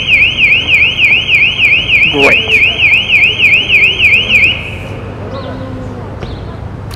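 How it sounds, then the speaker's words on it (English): A car alarm whoops in a loud, steady repeating cycle, then cuts off partway through while a person speaks over it outdoors in chilly fall weather. "Car alarms."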